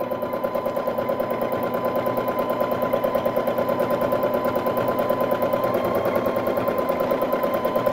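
Baby Lock Jazz II sewing machine free-motion quilting, a steady fast needle chatter running continuously and fairly loud for the whole stretch, with no talk over it.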